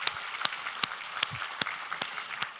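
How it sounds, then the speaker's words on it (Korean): A church congregation gives a short, sparse round of applause during a worship service, with scattered individual claps sounding at a steady, loose rhythm rather than a dense ovation. "우리 하나님께 감사와 영광의 박수를 드리겠습니다"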